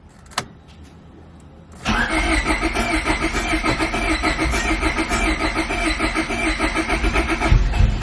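A Honda Civic with a B20 engine gives one short click, then a couple of seconds of quiet, then cranks with a fast, continuous, loud churn that runs to the end without catching.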